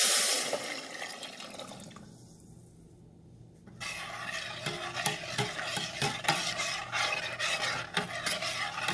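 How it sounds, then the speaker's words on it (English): Scraping, stirring noises from a spoon moving through oats sprouts soup with vegetable broth and jalapeno chili in a pot, steady and close, with a soft sizzle underneath and a brief quieter pause early on. "Stir well."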